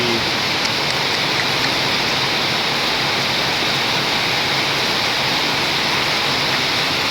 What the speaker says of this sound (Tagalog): Grabe ang ulan, diba?